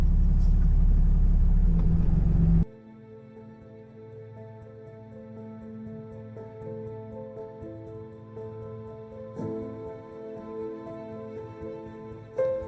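Steady road rumble of an RV cruising across a seven-mile-long earth-filled dam beside a huge lake, a loud broadband burst at first giving way to an even, continuous engine and tyre drone with a slight swell near the end.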